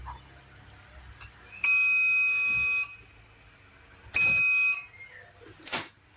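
Two sustained electronic beeps from a delay on-off LED and buzzer circuit, each lasting about a second, separated by a pause, with a quieter short tone afterward; clear and close against a faint background hum.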